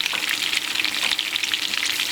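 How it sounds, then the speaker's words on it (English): Homemade meatballs for Italian sauce sizzle and spit in a frying pan, a dense, constant crackle up close with no talking over it. "Oh, they're sizzling."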